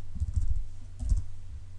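Typing a name on a computer keyboard: two short bursts of quick, soft key clicks, close and quiet, separated by a brief pause.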